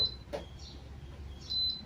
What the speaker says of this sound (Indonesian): Dia langsung bunyi bip error E4.